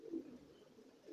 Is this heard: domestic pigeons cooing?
yes